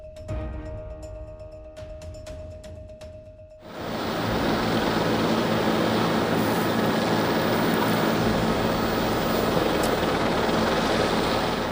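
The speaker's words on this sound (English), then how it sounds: "Watch as a JetBlue A320 landing with a failed deployed nose gear." A JetBlue Airbus A320 airliner lands with a failed nose gear, heard as a loud, steady broadband roar of engine and rushing air that swells in abruptly after a quieter opening and then holds without a break.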